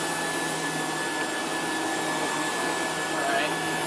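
A Rainbow water-filter vacuum cleaner runs steadily on carpet, a loud unbroken motor whine and airy roar that holds level throughout.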